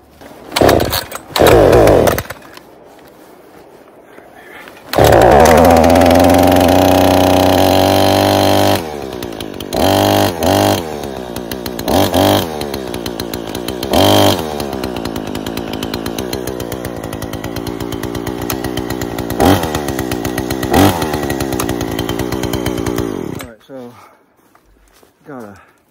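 A chainsaw cuts firewood in extreme cold around thirty degrees below zero, its engine revving loud and close in long sustained bursts with idle pauses and short restarts, while brief footsteps and handling noises come through between cuts.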